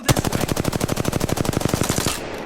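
Rapid automatic gunfire in a shooter game's aim practice, a single loud sustained burst of evenly spaced shots lasting about two seconds before cutting off.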